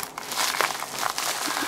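Plastic packaging crinkling and crackling as a swap parcel is cut open with blunt scissors, close and fairly loud, continuous rustle with sharp crinkles throughout.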